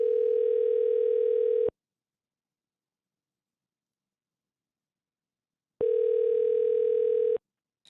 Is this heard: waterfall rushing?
no